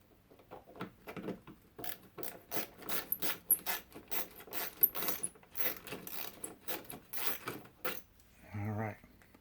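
A wrench works a bolt on a Jeep being prepped for a new plow, giving a close, rapid run of ratcheting clicks and metallic rattles that ends with a brief hum.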